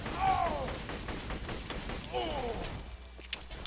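Enemy gunfire in Borderlands 2 from a distant foe behind rocks, a run of rapid, echoing shots and thuds rolling through the whole stretch, ending in a few sharp separate cracks.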